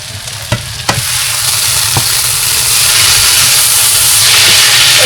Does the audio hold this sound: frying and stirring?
yes